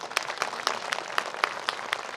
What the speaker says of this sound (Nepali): ताली दिनुहोस् प्रभुलाई।